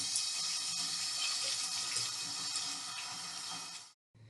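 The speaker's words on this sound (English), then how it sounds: "you need to wash your hands" Hands are washed under a running sink tap, with a steady, close splash and rush of water for about four seconds before it cuts off abruptly.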